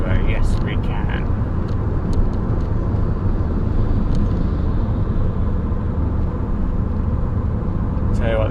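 Ford Puma car engine revving up toward 4,000 RPM, a steady loud droning roar with heavy low rumble and road noise throughout, sounding from inside the car while driving on a road behind a tractor.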